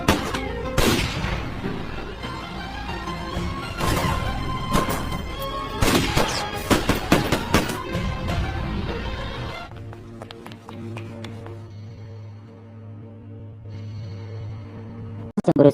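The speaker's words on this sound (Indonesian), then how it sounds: "dihadapkan dengan Ray dan juga Letnan Ross, yang kemudian terjadilah baku tembak di antara mereka." Gunfight in a military action film, with bursts of gunfire and sharp impacts over a dense, loud soundtrack that gives way to a quieter sustained tone after about ten seconds.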